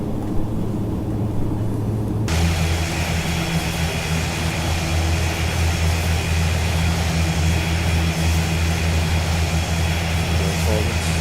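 Carenado ATR 72-500 turboprop engines in a flight simulator give a loud, steady drone with strong low tones. The drone fills the whole stretch and rises slightly in level after the first couple of seconds.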